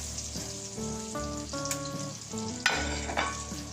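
A rack of lamb sears in a hot pan, with a steady close sizzle, brief clinks of the pan and a couple of sharper crackling bursts near the end, and no talking.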